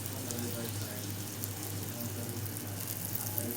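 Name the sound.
butter sizzling on a hot tawa for a sandwich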